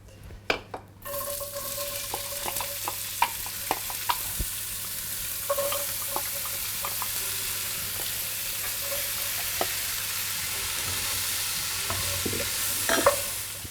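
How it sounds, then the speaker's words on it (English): Chopped onions, carrots and celery fry in browned pork fat for a ragu, a steady close sizzle with repeated spoon stirs and scrapes against the pan, no talking. "now I need to add the chopped onions, carrots and celery."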